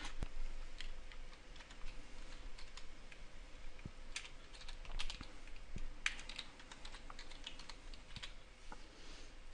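Keys clatter on a computer keyboard as a name is typed during a Windows 7 install, a quiet, close run of irregular clicks and taps with no voices.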